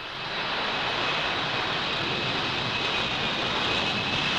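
A Harrier jump jet's engine gives a loud, continuous roar with a steady high whine that swells in at the start and holds without pause.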